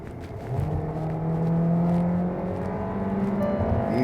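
Hyundai Tucson engine revving under acceleration while the automatic gearbox lags behind, a steady rising drone that swells and holds, heard from inside the cabin.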